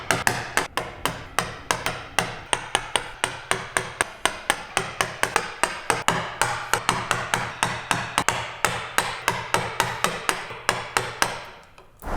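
A chisel is struck repeatedly with a mallet, cutting the baseline of a bridle joint in wood, a steady rhythm of sharp close knocks, about four per second, continuing without pause for the whole stretch.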